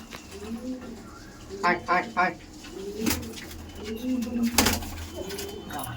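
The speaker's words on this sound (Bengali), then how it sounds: "বাপরে বাপ, প্রচুর অ্যাগ্রেসিভ পায়রা।" Pigeons in a home loft coo repeatedly in low throaty bursts, close and clear, with brief clicks and flutters between the calls.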